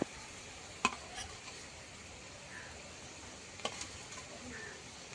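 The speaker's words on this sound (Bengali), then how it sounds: "ভেজে রাখা লোটে মাছগুলো এবার দিয়ে দেবো।" Fried lote fish (Bombay duck) goes into a pan: a faint, steady sizzle and soft stirring, broken by a couple of sharp clacks.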